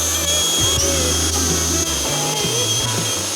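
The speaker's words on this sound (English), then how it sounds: "we have to drill out all these rivets in order to release this seat" A power drill whines loudly and continuously, its pitch dropping and rising as it bites into metal while drilling out rivets on a motorcycle seat, with brief pauses between bursts.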